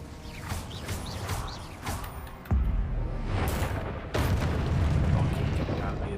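An Incendio fire spell is cast in a Hogwarts Legacy duel, with sharp magical bursts and whooshes, two heavy booming impacts, and the player shouting over the combat.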